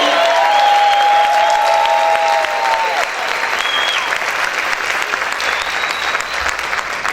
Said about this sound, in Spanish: Vamos a gritar y vamos a aplaudir fuerte al Rey.